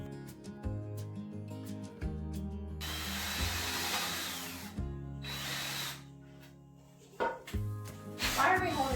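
Power drill driving screws into a DIY farmhouse wooden bed frame, several loud whirring bursts of a few seconds each separated by short pauses, close up, with faint talk between them.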